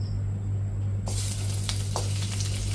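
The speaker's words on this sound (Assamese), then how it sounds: "তো কেৰাহী গৰম হৈ গৈছে এতিয়া মই ইয়াতে মাংসখিনি দিওঁ" Smoked pork pieces hit a hot kadai for a Chinese-style chilli pork, setting off a loud, sudden sizzle that roars on steadily over a low background hum, with a few stirring scrapes.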